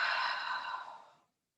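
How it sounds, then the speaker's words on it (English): One long breathy exhale through the mouth during a gentle yoga session, close and soft, fading out after about a second into silence. "Big exhale."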